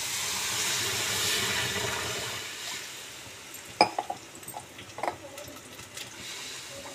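Water poured into a pan of browning moong dal gives a broad rushing hiss for about three seconds, then fades to quieter clatters and light sizzling.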